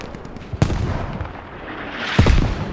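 Rapid gunfire in the military shooter Squad, with two sharp loud bursts separated by a brief lull and rumbling echoes between them.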